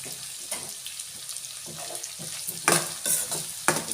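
Curry leaves crackle in hot oil while vermicelli upma is being made, a close sizzle broken by sharp pops and bursts of spattering and a few scraping stirs.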